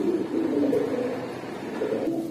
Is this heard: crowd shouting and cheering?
no